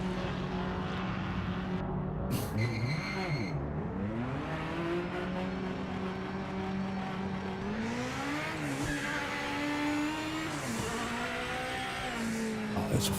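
A Group 5 race car engine in the Project Motor Racing video game roars loud and continuous, its pitch climbing and dropping through repeated gear changes, with a brief high squeal early on.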